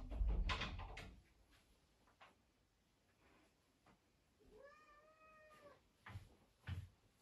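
A house cat wanting back into a basement gives one clear, rising-then-falling meow in a quiet room, surrounded by faint knocks and soft door or cupboard thumps.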